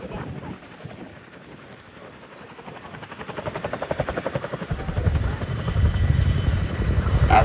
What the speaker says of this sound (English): a Chinook party piece, one of the only helicopters in the world that can reverse on 2 wheels